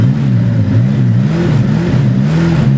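A 1927 Bugatti Type 51 engine revs on the throttle, its loud, close, buzzy mid-pitched note rising and dipping in repeated swells as the gas is worked, with no talk over it.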